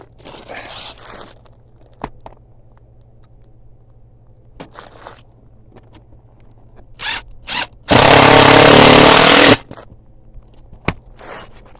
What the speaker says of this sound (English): I'm going to replace these roofing nails here with them